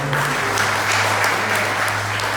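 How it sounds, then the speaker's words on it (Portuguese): A church congregation bursts into steady, loud applause during a sermon, a dense wash of many hands clapping continuously with a low hum underneath. "Você pode aplaudir Jesus pela vida dela."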